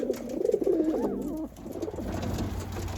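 Racing pigeons in a loft coo in low, throaty rolling calls, several overlapping close by, with a brief lull midway before softer cooing resumes under faint background noise.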